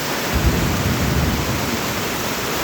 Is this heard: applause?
no